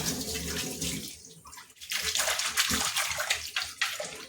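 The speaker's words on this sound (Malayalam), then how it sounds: "നല്ല പോലെ ഒന്ന് കഴുകിയെടുക്കുക" A clay cooking pot being washed under running tap water, giving a steady close splashing gush that briefly dips and then returns fuller and sloshing.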